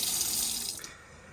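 Hot water gushes from a Burstner Nexxo T690G motorhome tap under pump pressure, a close steady splashing that tapers off as the flow is shut.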